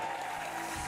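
Audience applause fills a dance competition hall at a national ballroom championship, a brief, steady wash of clapping with no voices on top.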